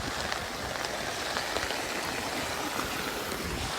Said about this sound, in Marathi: कालपासून एवढा पाऊस पडत आहे